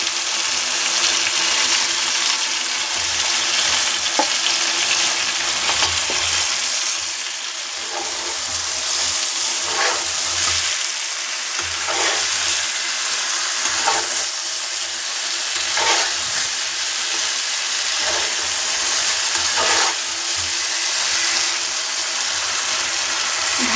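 Eggplant and potato pieces sizzle in a pan while being stirred, a continuous frying hiss broken by intermittent scraping strokes of the spatula, loud and close.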